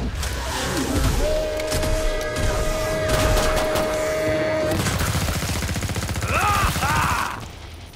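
Rapid bursts of gunfire from the video game Killing Floor 2 fill the scene, continuous and dense, with a sustained tone and squealing creature noises near the end.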